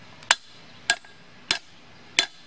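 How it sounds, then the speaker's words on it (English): A hammer strikes a small steel pin punch set in a 3/4-inch 4140 steel rod, four sharp, ringing metallic hits at an even pace, about two-thirds of a second apart, close and clear with quiet between them. "let's whack it with the hammer a couple of times."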